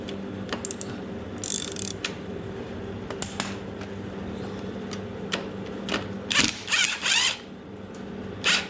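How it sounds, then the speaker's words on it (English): Allen bolts being loosened and removed from the frame of a Honda VT700 Shadow motorcycle: scattered close metallic clicks and ratchet-like ticks, with a few louder bursts of rattling near the end, no talking. "We'll just see how far it drops when I take those Allen bolts out."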